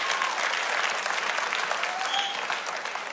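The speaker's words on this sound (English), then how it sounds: "Round of applause for Clement, ladies and gentlemen." Audience applause at a televised singing competition, a dense, steady wash of many hands clapping that holds loud and even for the whole stretch with a faint crowd murmur beneath.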